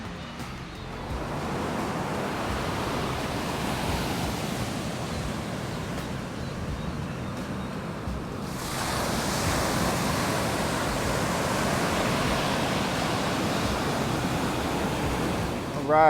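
Ocean surf breaks on a quiet, uncrowded beach away from the boardwalk, a continuous broad wash of waves that swells louder partway through, with wind noise on the microphone and no talk.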